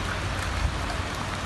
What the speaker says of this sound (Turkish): Akşam saatlerinde başlayan sağanak nedeniyle ağaçlar devrildi.